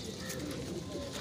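A pigeon coos softly at a pigeon club's mini zoo, a low repeated murmur over steady background noise with no talk.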